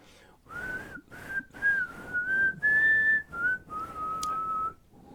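A man whistles a catchy tune heard at the Tiki Room, a continuous melodic line of sustained pitched notes broken by short breaths, close and fairly loud with no other sound.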